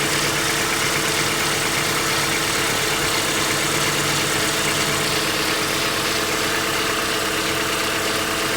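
A Nissan D21 truck engine idles steadily after warm-up, a continuous moderate hum with a low rumble and no voices.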